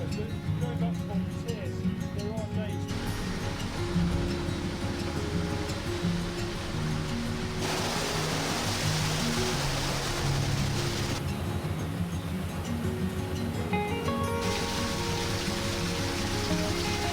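Water rushes into a narrowboat canal lock through opened paddles, a steady broad roar that swells and eases as the flow changes, with faint voices underneath.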